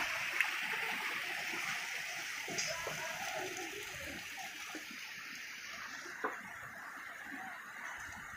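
Water flows and trickles steadily at a moderate distance at the holy pool of Parshuram Kund, Lohit district, a soft continuous wash with a few faint clicks and distant sounds.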